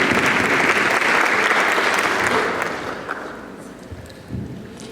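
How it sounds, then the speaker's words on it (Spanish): Warm audience applause for a speaker at a plenary session on gender and masculinities, full steady clapping that swells and then tapers off into a few lingering claps. "Les pido un aplauso para ella"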